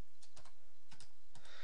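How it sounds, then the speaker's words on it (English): Keys tapped on a computer keyboard in a quiet room, arriving in short clusters of quick clicks separated by brief pauses. "So let's begin by typing in some information here."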